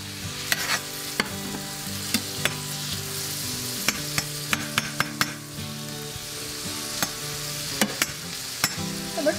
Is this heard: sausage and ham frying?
yes